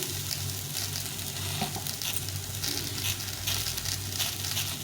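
Drumstick pieces, eggplant and potatoes frying in a pan, producing a continuous close sizzle and crackle with faint stirring clatter and a low background hum, no one speaking.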